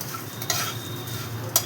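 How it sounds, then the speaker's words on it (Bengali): Puffed rice fries with a little oil, salt and peanuts in a pan while a utensil stirs it, giving a steady hiss with two short scraping sweeps. "তেল কম দিয়ে আমি মুড়িটা ভেজে দিচ্ছি"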